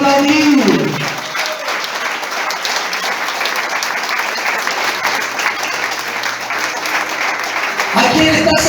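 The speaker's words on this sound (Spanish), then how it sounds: "Aplauda al Señor," A church congregation claps together at a Spanish-language evening service, a dense, steady round of applause that fills several seconds, with a voice speaking at the start and end.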